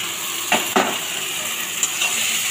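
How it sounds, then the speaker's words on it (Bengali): Tadka dal and vermicelli frying in a pan for suji khichuri, a steady close sizzle with a couple of sharp scraping stirs of the spoon early on and a lighter clink later. "দিয়ে ভালো করে ভেজে নেব"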